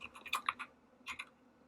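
Fingers type on a computer keyboard while data is entered into software: a quick, close cluster of light keystrokes, a short pause, then a second brief burst of taps, all quiet and without speech.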